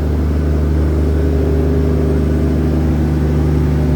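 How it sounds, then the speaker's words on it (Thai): A steady, droning diesel engine hums continuously close by, with a low throbbing rumble and no other sounds, from the generator car of a Malaysian passenger train at Hat Yai. "เสียงเครื่องยนต์นะครับก็จะเป็นรถ ปั่นไฟนะครับ"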